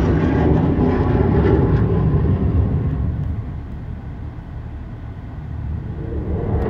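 Car engine and road drone while driving, a steady loud low rumble that fades somewhat midway and continues at a lower level, with no talking over it.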